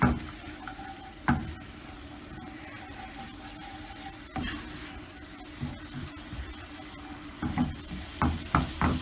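Garlic chicken frying in a pan over a high flame gives a soft, steady sizzle, broken by clattering stirs and scrapes of the utensil at intervals, fairly quiet and close with no talking.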